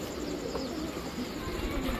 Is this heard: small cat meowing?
no